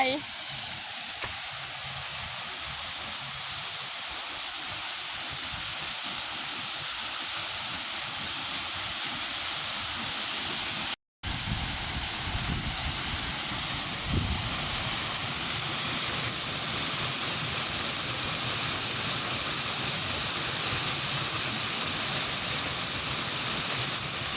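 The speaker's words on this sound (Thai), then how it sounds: "เข้าไปดูน้ำตกกัน" Steady broadband rushing of a waterfall runs throughout, continuous and fairly close, with a brief dropout midway and faint voices beneath the roar.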